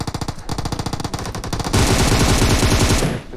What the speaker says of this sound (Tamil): ஒரு புல்லட் ஆச்சு அடிக்கறேன்.